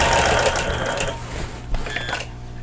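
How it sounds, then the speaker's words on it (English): A sewing machine stitches straight-line quilting on a basket table runner with a steady, fast mechanical whirr and clatter. It is loud and close and runs continuously with no talking. "do a little bit of straight line quilting in here."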